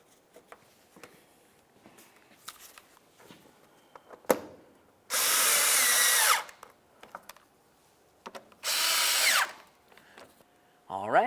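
A power tool drives bolts under the corner of a 2011-2018 Volkswagen Jetta. It gives two loud, close, high-pitched whirring bursts of about a second each, with metallic clinks and handling noises between them.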